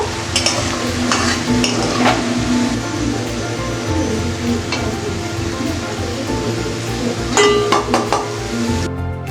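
Fried onions for chicken biryani sizzle loudly in oil while a metal utensil stirs and scrapes the pot, with clinks against the pan over a constant close frying hiss.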